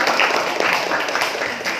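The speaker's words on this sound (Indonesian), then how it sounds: "tepuk tangan untuk kelompok 3" A classroom of students claps for a group of classmates in a short, loud burst of mixed clapping, with voices chattering over it.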